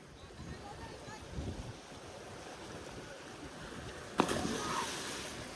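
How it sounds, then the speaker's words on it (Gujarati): Water splashes and washes around in a village pool used as a makeshift water park, a continuous rushing wash with a sharp splash near the end and people talking in the background. "અલે પિંટા હાલને તું વધારે પાણી ઉડાડી"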